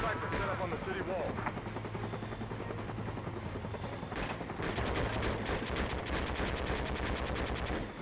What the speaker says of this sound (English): Enemy machine gun position, AA gun on the ground. Keep your head down.